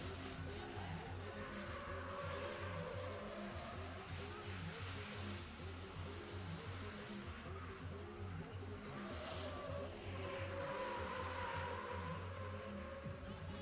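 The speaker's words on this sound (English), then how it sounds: "Jay putting up some good smoke in this big old truck" A 2016 Chevrolet Silverado pickup with a newer-generation 5.3 engine does a smoky burnout at a drift and stunt show, its engine droning steadily at a distance in a low, continuous rumble with rising revs.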